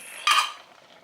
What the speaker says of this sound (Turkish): Bunu bir güzel karıştırıyoruz.